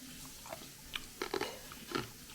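Crunchy bites into Korean fried chicken, a few sharp crackling chews scattered across a quiet room, close and moderately loud with short gaps between them.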